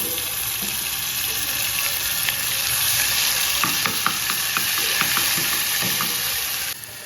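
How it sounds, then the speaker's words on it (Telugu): Steady, loud sizzling of a raw spice paste frying in a hot pan for a pigeon pea curry, with scattered crackles and pops throughout and no talking. "ఇలాగా ఒక 2 మినిట్స్ వేయించాలి"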